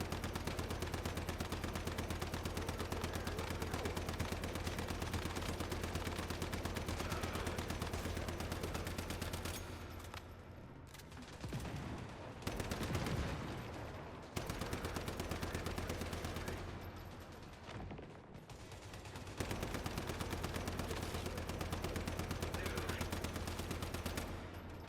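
Video game gunfire in a quiet, distant mix, rapid repeated shots forming dense bursts that pause briefly midway before resuming.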